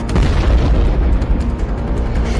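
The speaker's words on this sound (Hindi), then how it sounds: "क्लस्टर बम ऐसे लॉन्च होता है और फिर अपने टारगेट के ऊपर ऐसे फटता है" A cluster bomb in the Russia-Ukraine war, heard as a loud, continuous, rumbling deep boom of explosions filling the whole moment, with no voices.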